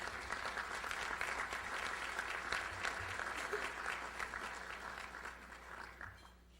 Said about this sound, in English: Now, we may applaud that lower tier.